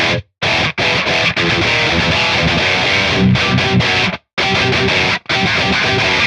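Heavily distorted electric guitar, driven through two stacked drive pedals, plays tight palm-muted chugging riffs in loud bursts separated by sharp, gated silences.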